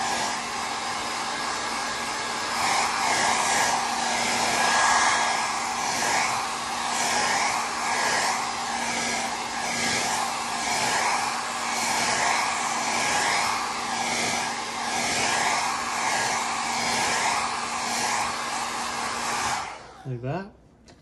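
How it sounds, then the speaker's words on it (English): Close, loud hairdryer air blasting across wet paint on a 1/24 scale Fujimi Blade Runner Spinner model, holding steady for about twenty seconds before being switched off with a brief wavering tail. "Give it a shot with a hairdryer"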